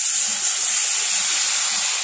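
Loud, steady hiss as about half a cup of water hits a hot cooking pan holding dried chilli being cooked for raw mango chutney, close up and continuous with no talking.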